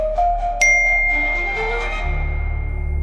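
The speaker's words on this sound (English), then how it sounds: "he heard his phone's notification sound." Phone notification tone at night: a bright ding with a sustained ringing tail, followed by fainter lingering tones under a low hum, heard alone.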